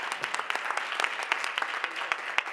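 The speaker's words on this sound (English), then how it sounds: "Can we give them another round of applause?" An audience applauds steadily after a panel performance, many hands clapping in a dense, even patter that carries on without a break, with no voices rising above it.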